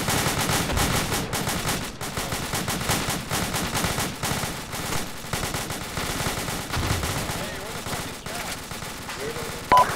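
Rapid bursts of suppressive rifle and machine gun fire from ArmA II crackle continuously and loud, with voices talking faintly beneath the shooting.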